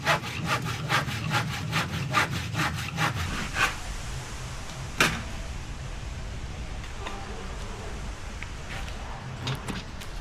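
A hand saw cuts wood pieces to size for a coffee trailer, with quick, rhythmic, close strokes for about four seconds, then a single sharp knock and a quieter scraping background.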